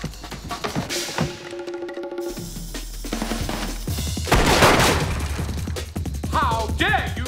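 Gunfire and crashing impacts in an apartment fight scene from the Jackie Chan action film The Medallion, bursts of shots mixed with smashes, score and brief voices, loud and chaotic throughout.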